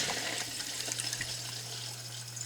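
Water runs quietly and steadily into a household well bladder tank system after the supply is switched on, a soft continuous hiss with a low hum underneath.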